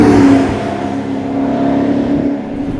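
An Audi supercar fitted with an electronically valved Inconel exhaust revs loudly up close, a strong engine drone that dips and swells without talk.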